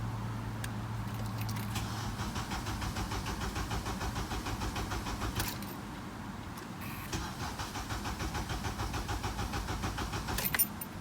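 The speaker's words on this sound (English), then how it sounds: "So now I'm gonna start the engine and let all the pressure on the line go away." An Acura TSX engine cranks and settles into a steady idle: a continuous, fairly loud drone with a low hum, heard alone without talk.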